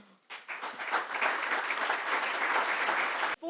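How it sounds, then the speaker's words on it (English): Audience applause at a joint keynote address, a dense burst of clapping that starts abruptly after a brief pause, holds steady and loud for about three seconds, then cuts off. "I please give another round of applause to my co-presenter"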